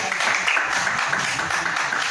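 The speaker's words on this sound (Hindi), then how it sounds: "एक बार जोरदार तालियां हो जाए" An audience applauds in a continuous, fairly loud wash of clapping, with a faint murmur of voices underneath.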